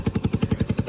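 Yamaha YBR125 motorcycle engine, freshly fitted with a new cylinder head and leaking at the exhaust gasket, idles with a steady, fast, even chuffing pulse close by.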